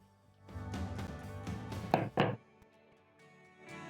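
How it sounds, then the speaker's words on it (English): A spatula scrapes and folds coconut cake batter in a bowl, a close, steady rubbing that ends in a couple of louder scraping strokes against the bowl, with no talking. "Scrape the bottom of the bowl to make sure all the ingredients are getting fully combined."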